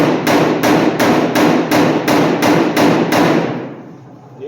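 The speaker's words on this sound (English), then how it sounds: "So a little pick hammer here, pick side up. We're going to take and we're going to pick that valley." A small pick hammer tapping a low spot out of welded sheet metal: nine sharp, evenly spaced metallic blows in a quick steady rhythm, close and loud, then the ringing dies away.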